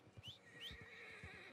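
A horse in the Red Dead Redemption 2 video game lets out two quick, rising whinnies over a few soft thudding hoof steps, close by but faint overall, with no talking.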